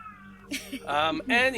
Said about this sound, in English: Sorry that my cat's meowing in the background.